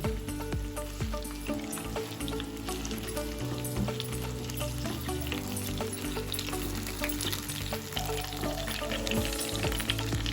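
Stuffed capsicum fries and sizzles steadily in a pan while being turned over, a continuous close crackle with light stirring scrapes and faint background hum, no speech.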